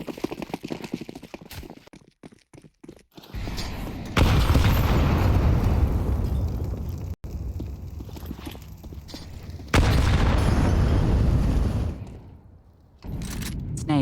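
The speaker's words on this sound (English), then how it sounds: "Nades, but they do no damage." Grenades going off during a professional Counter-Strike match: loud, booming blasts that swell into long, sustained rumbles, separated by stretches of clattering in-game noise.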